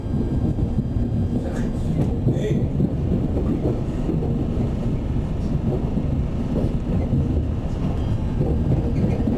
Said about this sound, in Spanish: el tren cierra las puertas y parte hacia Carranza